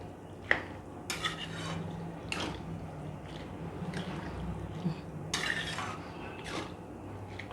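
Boiled peas and chicken keema for ghugni being stirred in a pan, with repeated scraping strokes of a spoon against the metal and some soft clinks, close and fairly quiet, no voices.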